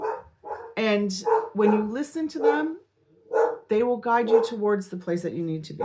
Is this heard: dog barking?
yes